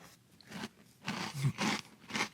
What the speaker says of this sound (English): chewing through this makes you feel like you're not eating very much